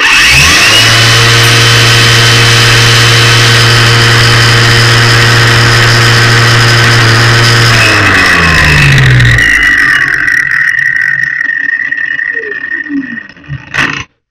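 A LUDYVI LB130 cordless angle grinder runs at third speed with a loud, steady, close motor whine. After about eight seconds it is switched off and spins down to a stop.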